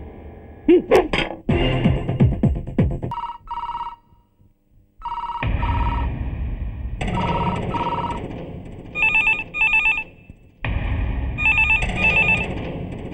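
Telephones in police stations ring on and on with no one answering, bell bursts repeating in steady pairs, broken by short pauses and a few dull thunks.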